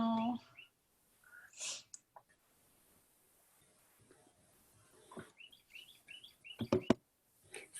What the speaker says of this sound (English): Somebody has some pretty birds in the background.